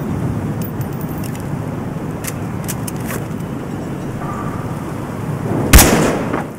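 Gunfire in the video game Battlefield Hardline outside a building: scattered dull bursts over a rumbling background, with one loud sharp shot near the end.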